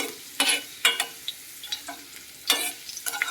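Ingredients for a coriander mint chutney frying in a pan, with quiet sizzling under a few sharp bursts of stirring and scraping spaced irregularly, no voices.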